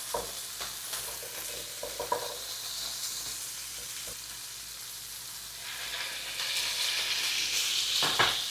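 Seared scallops sizzle gently in a pan on low heat with butter and soy sauce, a soft steady hiss broken by a few light taps that swells louder toward the end.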